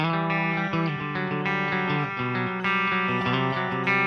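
Electric guitar played through a Marshall amp simulation with the coil tap engaged and a touch of added gain on the clean channel, ringing chords and notes in a bright, slightly driven tone.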